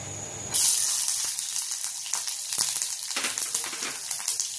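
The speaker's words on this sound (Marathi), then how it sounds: "तेल टाकते थोडं, मिरचीचा ठसका न हो म्हणून, आणि ह्या मिरच्या भाजायला सुरुवात फुल गॅस।" Green chillies hit hot oil on full gas for a peanut thecha, bursting into a loud, steady sizzle after a brief quieter moment, with crackles and pops running through the rest.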